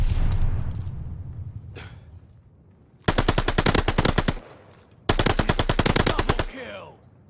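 Rapid automatic gunfire from the Call of Duty Vanguard video game in two loud, close bursts of evenly spaced shots, each lasting over a second, following quieter game ambience and faint talk.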